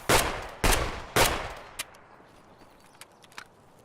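Three loud, evenly spaced shotgun blasts firing buckshot in Escape From Tarkov, each booming with a short decay, followed by faint footsteps and small clicks.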